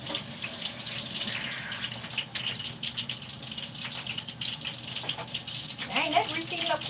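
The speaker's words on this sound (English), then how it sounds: "Wash my hands" A kitchen tap runs steadily while hands are washed, a close broadband hiss with small splashes and a faint sizzle of heating grease, and voices talk over it.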